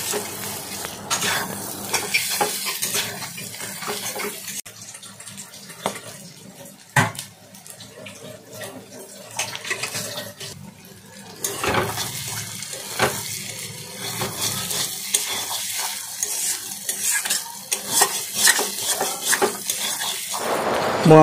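Brinjal pieces fry in oil left from frying fish, with half a spoon of turmeric, over a medium flame. A continuous sizzle runs throughout, broken by stirring scrapes and clatter of the pan.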